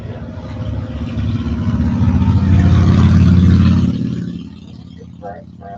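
A metric cruiser motorcycle engine revs up to a loud, throaty peak, then drops back to a low idle rumble, close by, with a brief voice at the end.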